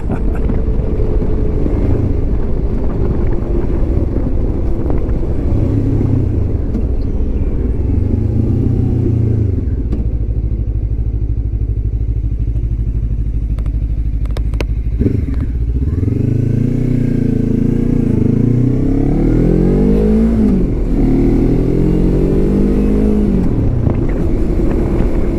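A 2025 Lifan KPT 400 motorcycle engine runs and revs with a deep, throaty note, rising and falling through several throttle blips under steady wind rush, loud and close.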